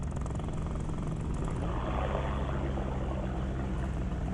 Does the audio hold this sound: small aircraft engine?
yes